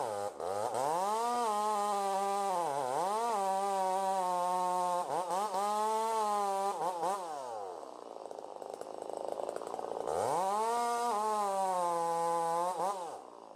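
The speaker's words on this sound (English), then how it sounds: "The task of felling a colossal tree with a chainsaw is not just a matter of brute force." A chainsaw cuts into a large second-growth sugar pine during felling, its loud engine droning close and steady, the pitch sagging under load and surging back up as the throttle changes, with a brief easing near the middle.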